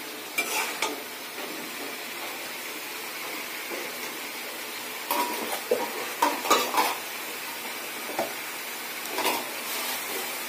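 Bay leaves frying in hot oil for a poultry chicken curry: a steady soft sizzle runs throughout, with a few sharper clatters of stirring and pan contact rising over it, no voices.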